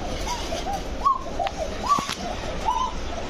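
A young male Kokka pigeon gives a thin, high-pitched coo, uttered as several short rising notes spaced about half a second apart over a faint steady background.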